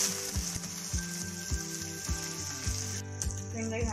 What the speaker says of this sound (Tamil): வெங்காயம் நல்லா வதக்கியாச்சு.